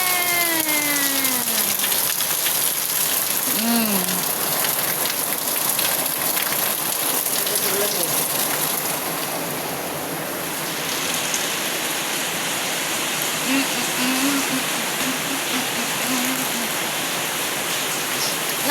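Steady, dense heavy rain pouring down, a continuous hiss of drops hitting surfaces close by, with faint brief sounds underneath.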